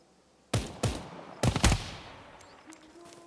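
Gunfire in the tactical shooter Ground Branch: a few sharp, loud single shots in quick succession, followed by a tight burst of two or three more and a fading ringing tail.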